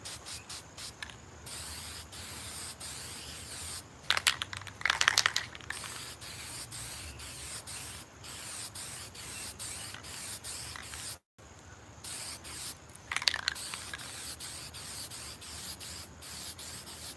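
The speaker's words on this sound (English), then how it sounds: "Since I'm here, I'm just gonna spray another coat real quick here." Bursts of aerosol spray paint as a second coat goes onto rods outdoors, two distinct hissing passes of a few seconds each against a steady quiet background with faint rubbing sounds.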